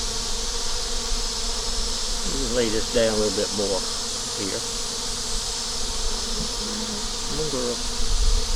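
Honey bees clustered outside their hive on a hot day fill the air with a dense, steady buzz that runs unbroken throughout, while someone speaks briefly and softly over it.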